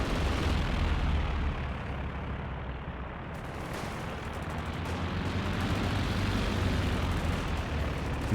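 Grenade explosion in a competitive online shooter match, heard as a dense, loud boom amid continuous rumbling battle noise and gunfire, with no talk over it.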